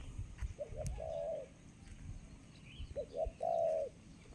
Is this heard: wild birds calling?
yes